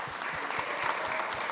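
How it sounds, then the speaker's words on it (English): Audience at a food summit gives a round of applause, faint continuous clapping heard from a distance with a few louder low thumps. "Give them a round of applause."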